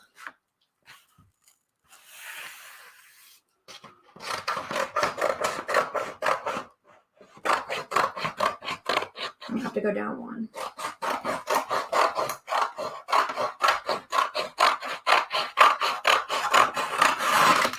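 A vinyl sheet being sliced along the guide of a cutting machine: a long run of rapid, rhythmic scraping and rasping strokes, close and fairly loud, with a few quiet spoken words near the start.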